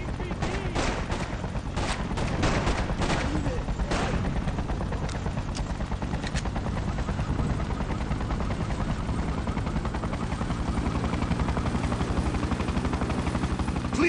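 Sustained bursts of gunfire rattle through a Freedom Fighters combat scene, dense and continuous with sharp crack-like onsets early on, layered over a steady rumbling din and occasional shouted voices.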